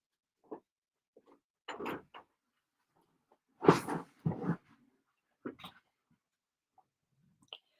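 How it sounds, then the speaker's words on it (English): A dog being let outside at home: scattered short thumps and clatters of a door opening and closing, separated by quiet gaps, with faint dog movement and a soft whimper nearby. "Let me put my pup out."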